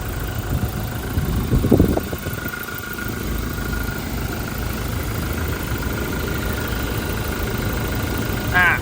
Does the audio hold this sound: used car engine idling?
yes